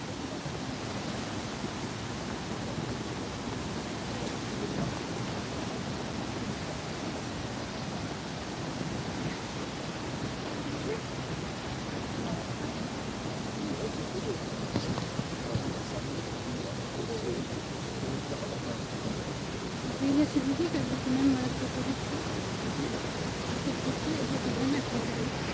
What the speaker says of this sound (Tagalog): Malapit lang kami sa falls kaya medyo maingay na.